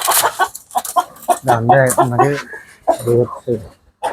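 Farm chickens on a poultry farm in Chattogram cluck intermittently beneath and between a man's conversational speech, the birds close and moderately loud.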